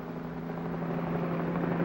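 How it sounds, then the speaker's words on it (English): Police helicopter flying over a city, heard as a steady, moderately loud rotor and engine drone with a constant low hum that holds evenly throughout. "Whirling over the city, a police helicopter reports traffic movement to the operations center."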